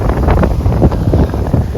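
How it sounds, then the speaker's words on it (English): Strong wind buffets the microphone outdoors near water, a loud gusty rumble with irregular bursts throughout the short stretch. "the wind's tough"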